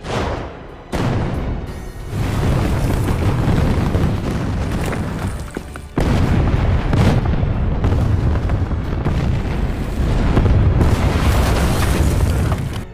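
German artillery firing in a Soviet World War II battle film, heavy booms and blasts rolling into a dense, loud barrage with a sharp cut near the middle, no voices.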